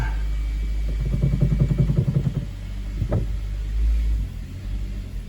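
A Suzuki SX4 AWD idling outdoors after a clutch replacement, a steady low engine rumble with a brief rise in revs early on, heard close and alone.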